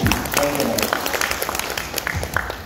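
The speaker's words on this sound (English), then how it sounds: "I think ma'am deserves an applause here." An audience at a felicitation event applauds, a continuous clatter of clapping with crowd noise, a voice heard briefly near the start beneath it.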